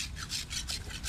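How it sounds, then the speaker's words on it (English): A rasp files across a horse's outer hoof wall at the toe in short, even strokes, giving a rhythmic scraping rasp, close and clear with no voices. "Be sure to rasp the outer hoof wall across the toe to remove any flare or pointed form there."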